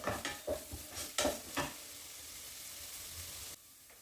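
Soya chunks masala curry being sautéed in a pan: scraping stirs and soft sizzling in the first two seconds, then a steadier low sizzle until it suddenly drops quieter near the end.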